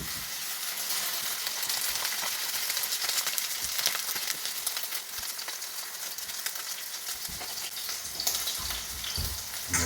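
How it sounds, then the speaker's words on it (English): A rabbit burger fries in a very hot pan, a loud, dense, continuous sizzle with crackling spatter throughout and no voices. "So now we're going to fry our burger."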